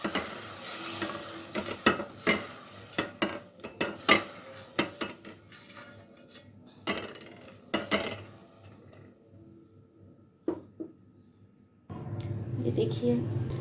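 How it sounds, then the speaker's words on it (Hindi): Seviyan vermicelli cooks in milk in a pot while a spoon stirs and scrapes against the metal in irregular clinks and knocks, with a soft simmering sizzle rising louder near the end. "अब आपको इसी दूध में ये सेवइयाँ पकानी है।"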